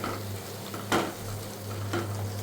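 Chopped tomatoes stirred in a frying pan with a spatula: a steady close sizzle over a low hum, broken by two brief scraping strokes about a second apart.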